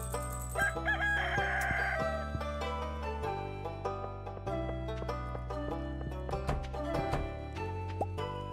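A rooster crows and chickens cluck in Stardew Valley, layered over bright game music with plucky notes; the crowing stands out near the start, followed by scattered clucks.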